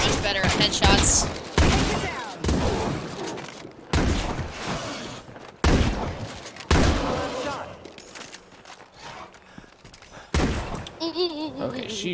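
Gunfire rings out in State of Decay 2, several loud sharp bursts and volleys spread across the clip with pauses between them, mixed with someone talking.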